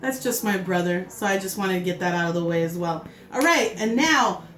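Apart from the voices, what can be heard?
No everyday noise stands out behind the speech.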